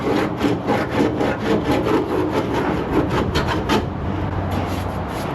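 Hand sanding of fiberglass body filler with sandpaper on a 1962 Chevrolet C10 pickup, a steady scratchy rasp repeating in quick back-and-forth strokes, close and continuous with no talk.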